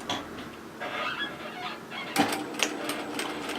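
A home sewing machine stitches a 1 cm seam allowance on a strap for a beach wrap coverup, running in short bursts of whirring with sharper clacks and knocks toward the end, fairly quiet.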